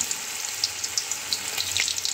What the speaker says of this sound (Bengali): ছোটো ছোটো সাইজ করে ভাজবো।